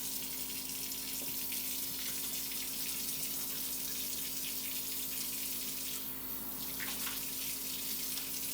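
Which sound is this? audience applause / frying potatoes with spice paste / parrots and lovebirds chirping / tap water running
tap water running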